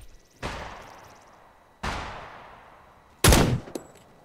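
Gunshots in the survival video game Scum, three loud separate cracks about a second and a half apart, each with a long decaying echo, the last sharpest and followed by a smaller pop, no talk.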